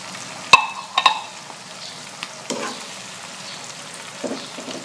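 Sardines sizzle and fry in a pan for spicy sarlog, with a few sharp pops and crackles at the start, then a lighter steady sizzle, close up and with no speech.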